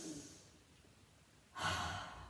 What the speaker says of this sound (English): take a deep breath in and a loud breath out through the mouth